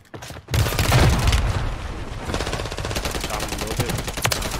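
Rapid automatic gunfire rattles in a multiplayer shooter game, starting abruptly after a brief quiet moment and continuing as dense bursts, with a heavier blast near the start and sharper shots toward the end.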